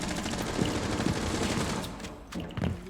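Dense rapid gunfire in Rainbow Six Siege rattles continuously and loudly through the whole stretch, with a short dip before the bursts pick up again.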